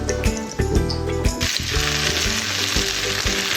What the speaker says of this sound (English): you will cook all the meatballs, you can do it in stages if you want